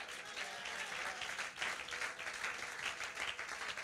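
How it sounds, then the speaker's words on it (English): Church congregation claps hands during a sermon, a dense, steady wash of applause lasting throughout, fairly close and full with no pauses. "Somebody clap your hands."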